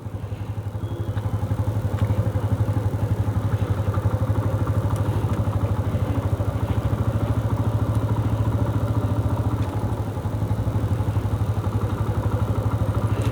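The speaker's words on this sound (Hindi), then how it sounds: "मैं सिर्फ इस बाइक को क्लच पे चला रहा हूँ।" A TVS Apache 160 2V motorcycle rolls in first gear on the clutch alone with no throttle, its engine putting out a steady, low, rhythmic thrum close by, with no voices.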